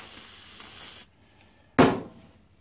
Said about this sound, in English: I do like the aerosol brake clean actually, it's pretty good. Comes out more ferocity, sort of blasts the dirt off.